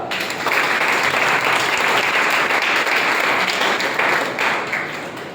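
A large audience at a speaking event breaks into sustained applause, a dense, steady wash of many hands clapping that holds at full strength for several seconds and then starts to fade.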